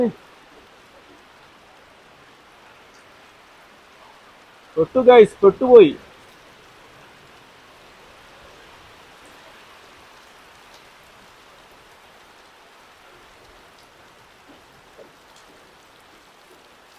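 A steady, soft wash of heavy rain at the Kottiyoor Vaishakha festival, with a short burst of talking near the start, then rain continuing alone.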